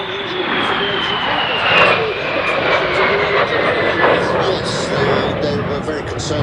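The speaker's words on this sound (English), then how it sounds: "the very beautiful de Havilland Vampire, the RAF's second frontline operational jet" A de Havilland Vampire, an early RAF frontline jet, passes at the Duxford Battle of Britain airshow with a steady, loud jet roar and a whining tone sliding slowly downward as it flies by, under commentary.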